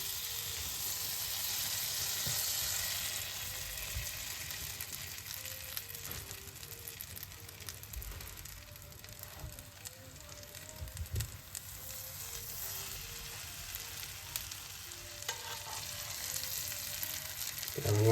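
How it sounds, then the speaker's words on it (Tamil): Potato rotti fries in a shallow pan, giving a steady, close oil sizzle that crackles and spits throughout, with no talking. "இப்போ சோஸ் பேனில் சுடுவோம்."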